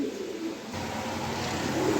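A male pigeon coos softly, with low, throaty murmurs against a quiet background hiss.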